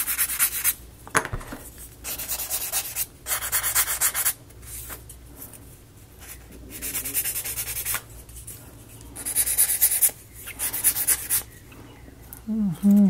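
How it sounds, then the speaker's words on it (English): Small laser-cut wooden pieces from a ROKR steam engine model kit are sanded by hand in repeated bursts of close, raspy rubbing strokes separated by brief pauses. "Get these sanded down."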